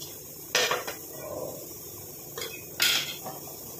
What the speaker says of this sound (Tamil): இப்போ இதை வந்து நல்லா கலந்து விட்டுடலாம்.